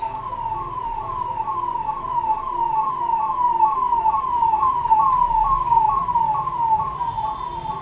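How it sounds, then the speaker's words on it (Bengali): An ambulance siren passes, its repeating wail rising and falling steadily over a continuous low rumble of road traffic, loud and close throughout with no talking. "অ্যাম্বুলেন্স যাচ্ছে"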